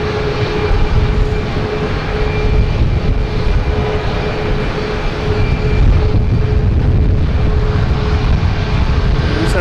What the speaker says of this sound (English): Had a JetBlue takeoff.